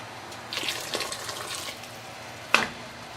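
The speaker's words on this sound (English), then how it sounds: "ladle some of the boiling water over the duck just to seal in the skin" Boiling water is ladled over a whole duck in a few short splashing bursts, with a brief clink of the ladle near the end, fairly quiet and close.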